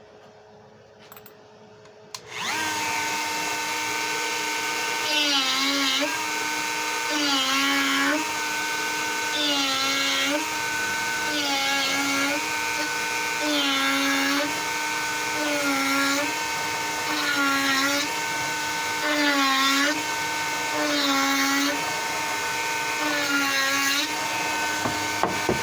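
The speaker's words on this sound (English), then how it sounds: "So I'll be going back to that grinder, tipping a little bit." Rotary grinder carving wood for a woodspirit birdhouse, running steadily and close with a high whine that dips repeatedly as the bit bites into the wood, then rises again between passes.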